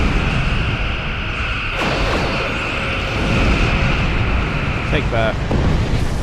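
Quantum torpedoes fired and exploding in Star Trek Online, heard as whooshing launches and rumbling blasts over constant loud starship combat noise, with a voice speaking briefly.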